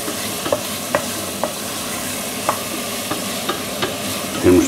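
Onion fries gently in fat in a pan with a soft, even sizzle, broken by small crackles and faint stirring clicks, and one louder scrape at the end.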